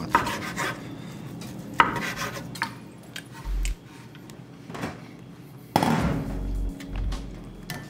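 A knife thinly slices pulled pork on a cutting board in a home kitchen, giving irregular knocks and thunks of the blade against wood with a few sharper clacks amid quiet handling noise.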